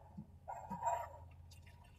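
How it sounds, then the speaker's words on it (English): Hot water from a freshly boiled kettle pours into a mug holding a tea bag, a quiet liquid trickle and splash lasting a couple of seconds with no talking. "Putting some water in, probably about 3/4 full with the water"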